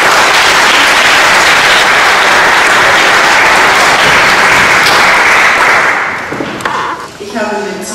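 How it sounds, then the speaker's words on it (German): Loud, dense audience applause for Jutta Haag at a magic society's 65th anniversary event, sustained for about six seconds before thinning into scattered claps and a voice. "bitte nochmal einen wunderbaren großen Applaus für"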